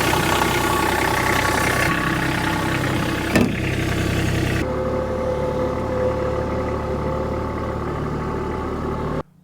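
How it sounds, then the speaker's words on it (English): A Toro 3100D reel mower's 3-cylinder Kubota diesel engine idles loudly and steadily up close, with a brief knock partway through before the sound settles into a quieter running hum. "It's got a 3-cylinder Kubota engine in the back."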